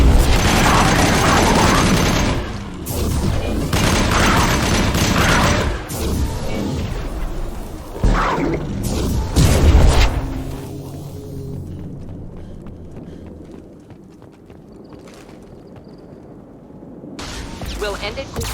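Combat gunfire from Mass Effect 2 with Mordin in the fight: loud bursts of weapon fire and mechanical clatter over the first ten seconds, then quieter stretches with a brief burst near the end, mixed with game voices.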